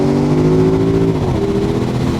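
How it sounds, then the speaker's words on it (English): The V8 of a 2020 Porsche Cayenne Coupe Turbo rumbles steadily and loudly under acceleration, its pitch shifting slightly as it shifts gear, with no voices. "the first thing that hits you is the sound of this V8."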